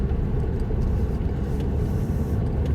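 Car interior while driving home, a steady low engine and road rumble with a continuous, even hum throughout and no voices.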